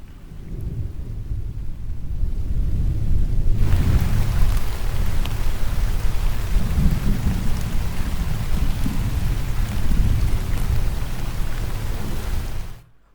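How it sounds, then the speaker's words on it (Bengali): Thunderstorm relaxation recording played from a website: steady rain hiss fills the clip, with deep rolling thunder rumbling low throughout and swelling after a quieter opening few seconds, loud and continuous with no voices. "এখানে মূলত বজ্রপাতের যে সাউন্ডটা আছে ওইটা হবে।"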